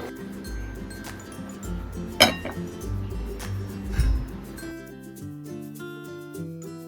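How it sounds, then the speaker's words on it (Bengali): Koi fish and mankachu curry is served into a dish with a few sharp clinks of metal on glass or china, set over a low, steady background hum and faint music. "এবার চলো তোমাদেরকে আমি একটু সার্ভ করে দেখাই"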